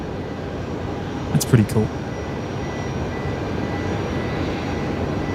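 An airliner departing Brisbane Airport produces a steady, broad jet roar heard from a distance, with a voice briefly speaking over it partway through.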